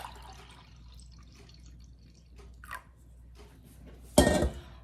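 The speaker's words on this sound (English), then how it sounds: "So just pour into my measuring cup." Fresh lemon juice from eighteen lemons is poured into a glass measuring cup, giving a faint, quiet trickle and drip that ends in a sharp glassy clink near the close.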